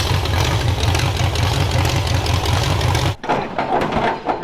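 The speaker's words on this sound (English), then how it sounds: "See if we can figure out what's going on with this engine." A steady, rumbling idle from the engine of a customer's car with a suspected fault, running evenly for about three seconds before the sound cuts and changes abruptly.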